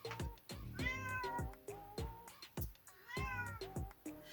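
An indoor cat meows repeatedly, a string of short rising and falling calls close by, some brief and some drawn out, with small pauses between them.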